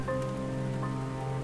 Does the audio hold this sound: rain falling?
yes